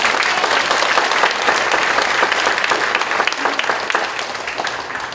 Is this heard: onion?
no